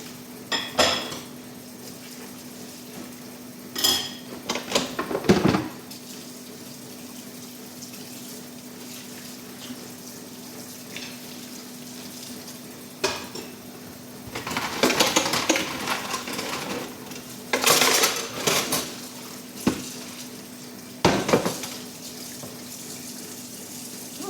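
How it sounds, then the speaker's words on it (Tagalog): Dishes and cutlery being washed in a sink under cold running tap water after a dinner, with intermittent clinks and splashing bursts over a steady low hum. "Ang dami pong hugasan."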